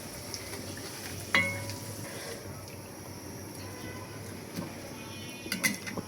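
Food frying in a pan while khichuri is being cooked at home: a steady, close sizzle runs throughout, with a few faint clinks of utensils and no voices.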